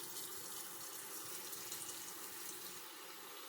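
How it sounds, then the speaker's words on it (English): Tap water runs steadily into the bottom of a steamer pot, a continuous close splashing fill with no speech, steaming sweet potatoes for a gluten-free flatbread. "We're going to take steamer bottom, put some water in it"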